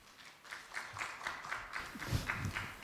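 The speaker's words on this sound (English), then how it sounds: "Please welcome Dr. Aradhna Aggarwal with a big round of applause." A small conference audience gives a quiet, evenly paced round of applause to welcome a speaker, the claps soft and fairly distant.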